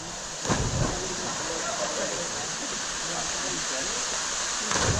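Waterfall at Kelly's Falls plunge pool near Wollongong, Australia, giving a constant, full rushing roar that stays even throughout, with a couple of brief louder bumps.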